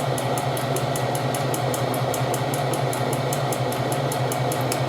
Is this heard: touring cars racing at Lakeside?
no